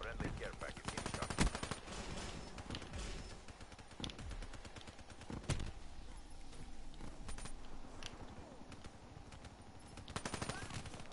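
Rapid gunfire bursts from a hard-recoiling gun in Call of Duty Black Ops 3, crackling repeatedly at fairly low level under a player's voice talking throughout.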